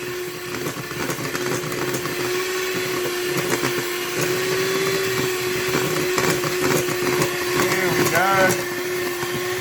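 A hand-held electric beater whirs steadily through a mixture in a community kitchen, a continuous motor drone with a brief higher-pitched rise near the end, while a voice speaks briefly over it.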